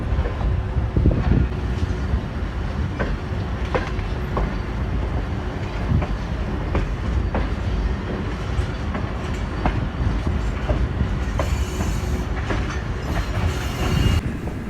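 Millat Express train pulling out of Chenab Nagar station on the Sangla Hill–Kundian branch line, a steady loud rumble from inside the carriage with repeated clickety-clack wheel beats over rail joints and a brief squeal near the end.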